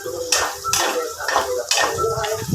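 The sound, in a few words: stirring laing in a cooking pot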